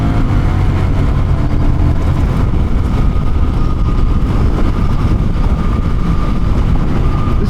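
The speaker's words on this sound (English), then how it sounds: "This 1100cc parallel twin is putting down around 80 horsepower at the back tire." Honda Rebel 1100 DCT SE motorcycle with an automatic transmission and 1100cc parallel twin engine, ridden while merging into traffic: a loud, steady engine drone blended with strong wind rush, continuous throughout.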